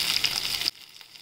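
Garlic, green chillies and tomato fry in a pan for an okra thecha: a loud, close sizzle that stops abruptly partway through, leaving near silence.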